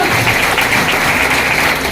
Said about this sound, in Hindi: उनके लिए एक जोरदार तालियां दें